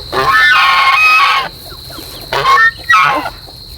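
Loud, close honking and clucking from ducks, geese and chickens in bursts, with a steady high whine running beneath the calls, at a farm in the evening after rice harvesting.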